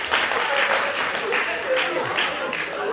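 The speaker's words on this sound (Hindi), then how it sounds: "आप लोग तालियां पीटते हैं," A live audience claps during a Hindi comic poetry gathering, a steady, dense patter of applause lasting a few seconds, mixed with voices talking over it.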